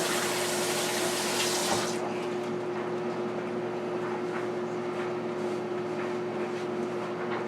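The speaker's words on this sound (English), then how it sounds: "Wash my hands again." Water from a kitchen tap runs steadily over hands at a sink while homemade butter is being made, a loud hiss for the first two seconds that then settles into a softer continuous flow with no talk.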